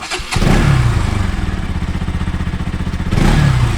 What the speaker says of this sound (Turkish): Motosikletin sesini de bir duyuralım o zaman.